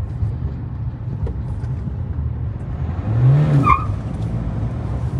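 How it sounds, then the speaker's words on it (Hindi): A 2023 Kia Sonet 1.5 diesel with a six-speed manual spins its wheels in third gear, giving a brief, loud tire squeal midway through a steady engine and road drone. "थर्ड गियर पे भी व्हील स्पिन दे रही है ये"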